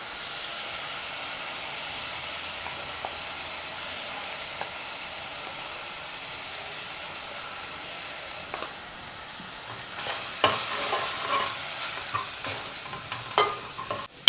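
Masala spices fry in a pan for an Andhra-style korameenu fish curry, giving a soft continuous sizzle and hiss, then a few sharper stirring scrapes and clinks toward the end. No one speaks.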